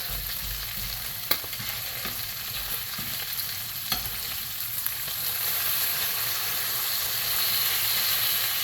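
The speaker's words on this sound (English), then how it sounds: "I'm just trying to render as much of the fat out as I can and get it nice and crispy." Bacon fat rendering in a pan for chuckwagon beans, a continuous crackling sizzle with a few light clicks of stirring, growing slightly louder toward the end.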